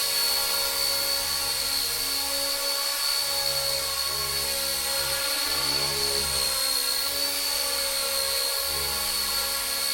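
A K170 Black Hawk RC helicopter hovers in place, its small rotor and motor giving a steady high-pitched whine with a fluttering low hum that wavers slightly as it holds position, loud and close with no talk.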